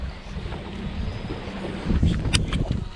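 Wind blows over a fishing boat on Chesapeake Bay at about 10 to 15 mph during striper fishing. It makes a steady, low, buffeting rumble against the microphone, with faint water sounds and no talking.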